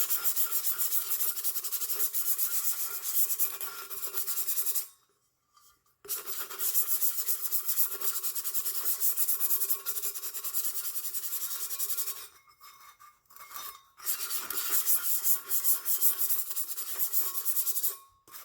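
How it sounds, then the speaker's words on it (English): Sandpaper scuffs a stainless steel tumbler in long continuous rubbing strokes, close and steady, with two short pauses where the sanding stops briefly before resuming. "I'm just going to rub all up and down the tumbler, and I'm going to scuff it up where there's scratches all over"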